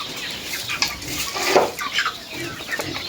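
Chickens cluck close by while drinking whey mixed with water from a dish, soft irregular clucks mixed with light clinks of a container.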